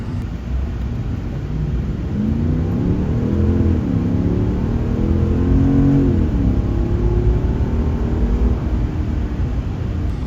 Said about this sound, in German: es klingt wie ein V8, klingt richtig gut